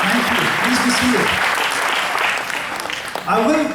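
Hall audience applause at a Jain community session, thick and steady before thinning out near the end as a voice speaks over the tail of the clapping.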